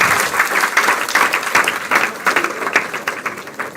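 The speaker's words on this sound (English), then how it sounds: "Can we give them a big round of applause?" Applause from an audience at a college student induction programme, dense, loud clapping from many hands that holds steady for the whole stretch, with no talk over it.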